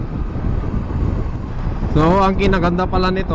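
Steady blustery wind rumble buffets the microphone during a motorcycle ride on a Yamaha Mio i 125, with a person starting to speak over it partway through.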